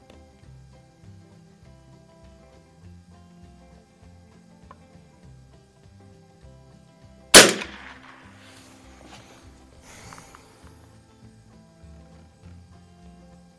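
A single sharp report from a Schmidt Rubin 1896 rifle rebuilt as a .22 short biathlon gun, close and abrupt with a brief decay, standing alone over a quiet background.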